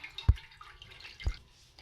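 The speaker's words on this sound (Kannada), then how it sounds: "ಅದೆಲ್ಲ ಹೋಗಲಿ ಅಂತ ಹುಣಸೆ ಹಣ್ಣನ್ನ ಸೋಸ್ತಾ ಇದ್ದೀನಿ" Strained tamarind pulp drips water in two distinct, faint drops about a second apart, in a quiet kitchen.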